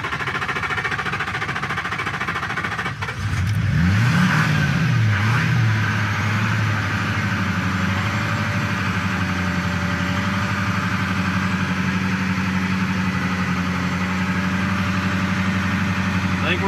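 A diesel truck engine restarts in the desert and settles into a loud, steady idle close by, with a brief revving surge just after it catches, then a continuous rough drone.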